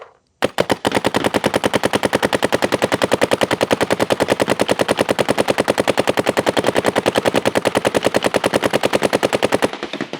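Electronic paintball gun firing in ramping mode, a loud rapid uninterrupted stream of sharp pops at a very even rate for about nine seconds, then stopping abruptly.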